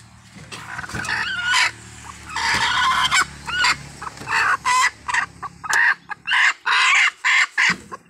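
Chickens cluck in a coop where new chicks have just hatched, a steady run of close, loud clucks and squawks that breaks into short repeated bursts toward the end, with no talking.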